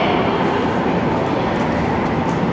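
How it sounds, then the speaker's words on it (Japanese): A close, loud KiHa 40 diesel train arriving at a station platform rumbles and roars steadily, a dense continuous noise with no voices. "まもなく5番線に列車が到着しますご注意ください"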